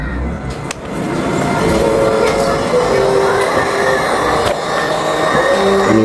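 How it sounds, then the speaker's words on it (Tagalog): A steady, loud whooshing drone from an electric blower runs continuously, with a few sharp clicks and knocks near the start. "magagamit na rin itong blower natin"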